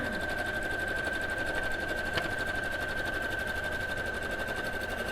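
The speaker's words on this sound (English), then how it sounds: "So just sewing along those top raw edges." A sewing machine runs continuously, stitching along the top raw edges of fabric pieces for a Christmas quilt, its even, rapid mechanical whir holding steady at close range throughout.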